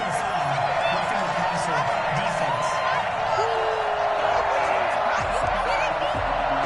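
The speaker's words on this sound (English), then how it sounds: "this crowd does not like that call" A stadium crowd at an NFL game between the Seattle Seahawks and Minnesota Vikings roars in a steady, dense wash of booing and shouting after a roughing penalty call, with commentators talking over it.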